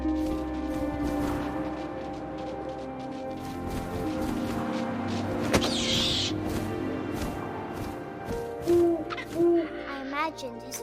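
An owl hoots in the video game What Remains of Edith Finch. Two short, clear hoots come near the end over a steady ambient background with scattered rustles.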